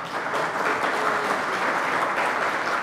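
Steady applause fills a debate forum hall as an audience greets an introduced lawmaker, many hands clapping in a dense, even roar without pause.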